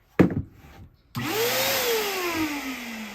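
An electric balloon air pump on its number 1 setting starts after a short knock and clatter, then runs alone as a loud, steady motor whine that rises in pitch briefly and slowly settles lower.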